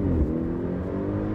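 A car engine runs and revs steadily at close range for a moment, a dense continuous drone with no voices.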